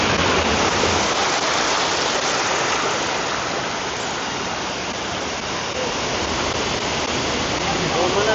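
A large waterfall in Papua New Guinea roars as a dense, steady wash of falling water, loud and unbroken throughout.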